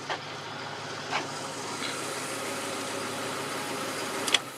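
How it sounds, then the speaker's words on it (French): A car engine with its original carburetor and twin exhaust idles steadily with a soft, even low rumble, constant throughout, with a few faint clicks on top and no talk. "Donc un petit ronronnement discret et sympa."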